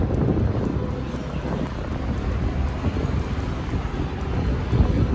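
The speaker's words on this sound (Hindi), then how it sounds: "बहुत तेज़ हवा है।" Strong wind at Mumbai's T2 airport buffets the microphone with a constant low, blustery rumble that surges slightly in gusts.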